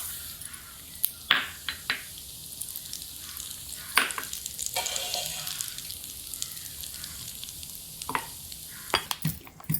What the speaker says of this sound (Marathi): ती डाळ पण टाकते, आपली चांगली तळून निघते